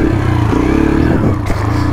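Yamaha TTR 125 dirt bike engine running loud and close, a steady low drone that holds its pitch, then shifts briefly near the end as if easing off the throttle.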